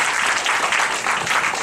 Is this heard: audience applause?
yes